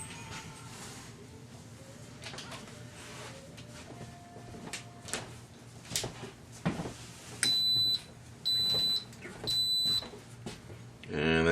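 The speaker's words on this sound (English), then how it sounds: "it just beeped, so it's going to run 45 minutes." Electric cooker set to its soup broth setting gives three evenly spaced high electronic beeps near the end, after quiet kitchen clatter and a few handling knocks.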